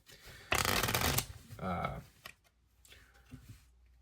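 A deck of playing cards is shuffled in a loud riffle burst, followed by a softer second riffle and a few light card taps.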